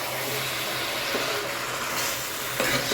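Young bottle gourd pieces being sautéed in oil for a hilsa fish curry, giving a steady, moderate sizzle with faint scraping of stirring throughout.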